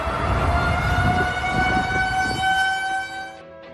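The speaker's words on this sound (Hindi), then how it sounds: "थोड़ी ही देर बाद अमेरिका के इस इलाके में तूफानी बवंडर का सायरन बजने लगता है।" A tornado warning siren wails in the United States during a storm, a loud sustained tone with strong harmonics over low rumbling, fading toward the end.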